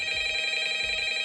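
A loud phone ring sound effect from a FNaF fangame built in Clickteam Fusion 2.5, a steady electronic trill that continues without a break for the whole moment.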